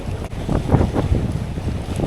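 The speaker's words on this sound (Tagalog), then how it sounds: "Lakas ang hangin eh." Strong wind buffets the microphone in loud, rumbling gusts beside a fishing pier, with a faint wash of water in the background.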